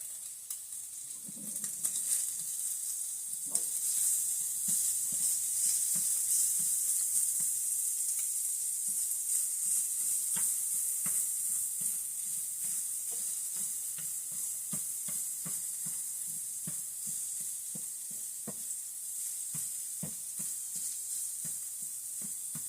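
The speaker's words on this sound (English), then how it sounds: "And time to stir the vegetables around again." Vegetables for a ground turkey rice soup are stirred in a pot with a spoon, giving a steady run of soft scraping clicks over a constant bright sizzle and hiss of cooking, close and continuous throughout.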